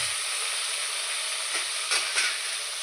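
Tomatoes and salt sizzling in a pan with softened onions, a steady close frying hiss with a few brief stirring scrapes near the end.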